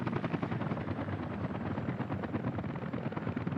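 A helicopter in the Workers & Resources city-building game gives a steady, pulsing rotor chop throughout, continuous and moderately loud, with no voices.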